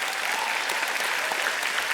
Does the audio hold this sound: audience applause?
yes